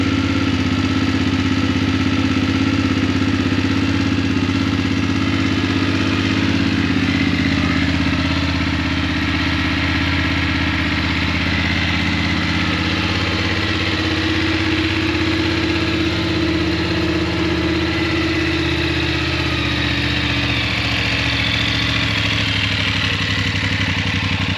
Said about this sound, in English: We're going to start the bike now and see what it sounds like.